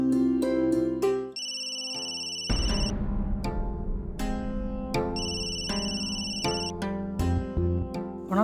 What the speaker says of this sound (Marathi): कोणाचा फोन वाजतोय?